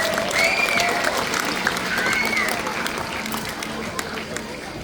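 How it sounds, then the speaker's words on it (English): An audience claps steadily for several seconds, with scattered cheers and a voice above the applause. "Give yourselves a nice big round of applause."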